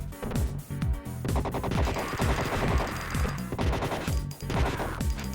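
Guns firing in the Streets of Rage Remake video game: a rapid, steady stream of loud sharp shots with crashing hits, mixed with game music and no voices.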